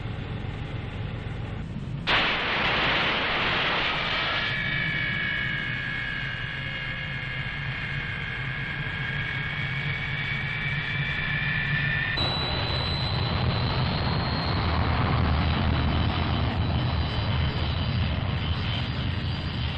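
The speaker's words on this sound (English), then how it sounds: "While the Canberras are rolling out onto the tarmac, the fighters are being readied for takeoff." Canberra bombers taxiing at RAAF Butterworth airfield, a steady loud jet engine roar with rising whine tones that shift partway through, continuous for the whole stretch.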